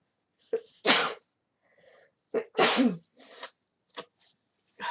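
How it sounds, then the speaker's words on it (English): Two sharp, forceful sneezes close to the microphone, each preceded by a short intake of breath, with quiet gaps between them. "I'm gonna sneeze, hold on."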